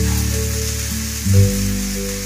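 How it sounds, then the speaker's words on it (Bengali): Chopped onions, two medium ones, hit hot oil in a pan for a fish curry and crackle with a steady, loud, close sizzle, while a low hum of music runs underneath and nobody speaks. "তেলটা গরম হয়ে গেছে। আমি প্রথমেই দিলাম পেঁয়াজ।"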